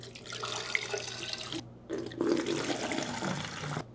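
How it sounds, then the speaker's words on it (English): Liquid film-processing chemical is poured back and forth between two bottles, a steady gurgling splash in two bursts with a short pause between them, close and fairly quiet. "Now we're gonna pour it back and forth between the two bottles a few times"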